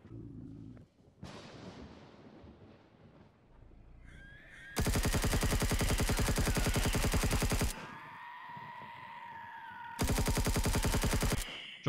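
Gunfire in Empyrion Galactic Survival, two long rapid bursts of loud, evenly spaced shots, the first about three seconds and the second shorter, separated by quieter mechanical hum and scattered clatter.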